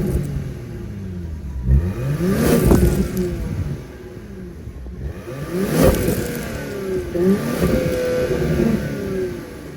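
The 3.5-liter twin-turbo V6 of a 2025 Genesis GV80 3.5T Prestige revs three times, each blip climbing sharply and then falling back to idle, loud and close with no voices.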